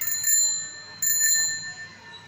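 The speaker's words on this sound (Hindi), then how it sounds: "घंटी बजाओ, घंटी बजाने आता है? बजा के दिखाओ इसको" A child's bicycle bell rings out in two bright, metallic trills about a second apart, loud and close, with a lingering shimmer after each strike.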